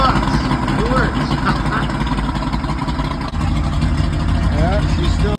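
A 1988 Blackmax 200 outboard engine runs steadily and revs, its dense low droning roar close and loud for the whole stretch, with a person talking over it.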